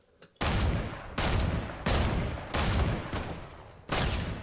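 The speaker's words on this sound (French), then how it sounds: "Il me tire dessus" Heavy gunfire in a competitive video game, several loud, close blasts or bursts, each starting sharply and fading into a dense rumble, about five in quick succession with no talk.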